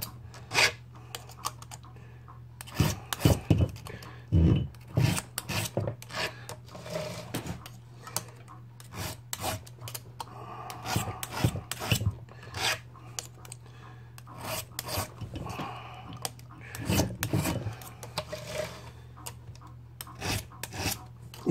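A hand file rasps across the rakers of a saw chain in steady, repeated strokes, close and fairly loud, with short pauses between bursts and a constant low hum underneath.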